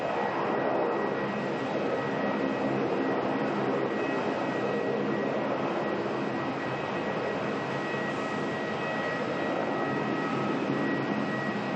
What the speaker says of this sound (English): You're hearing a Rex Saab, which I guess is like a chopper in a way.